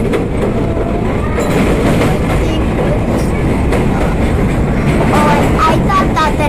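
An R32 subway car rides the J line on a skip-stop trip between Broad Street and Jamaica, with a loud continuous rumble, rhythmic wheel clatter and faint squeals. People talk quietly under the noise.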